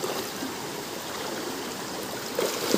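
Water flows steadily at a shallow river crossing with a constant broadband rush and gurgle, close and continuous, with a few faint splashes near the end.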